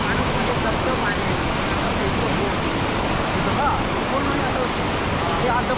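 Water crashes down about 40 feet into a deep pool at Devkund waterfall in Tamini Ghat, making a loud, steady, close roar that never lets up.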